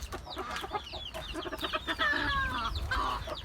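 Chickens clucking and squawking close by on a farm, with a white rooster's calls rising among busy flock noise and scuffling.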